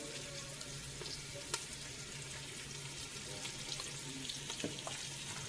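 Vegetables for a vegetable dum biryani sizzle and fry softly in a pan, a quiet, steady hiss broken by a few faint clicks and taps, with no voices.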